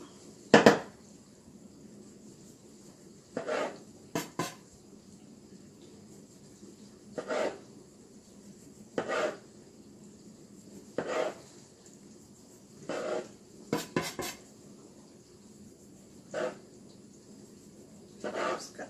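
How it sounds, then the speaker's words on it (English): Knife slicing through floured, rolled cinnamon roll dough on a board, a series of soft, muffled cuts repeating every second or two, each a brief thud against a quiet kitchen background. "Just slice them all about the same size."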